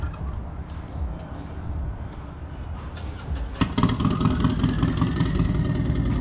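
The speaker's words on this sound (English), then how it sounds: "That's a motorcycle, that's a Harley out there, a turbo on it." Turbocharged Harley motorcycle engine running outside, a steady mid-range rumble that grows louder and busier toward the end, with no talk over it.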